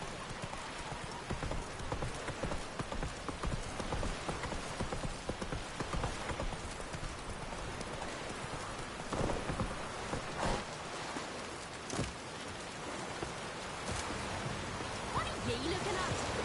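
Roach, Geralt's horse in The Witcher 3, trotting with a steady clip-clop of hooves under a wash of rain-like ambient noise, while someone briefly speaks to the horse.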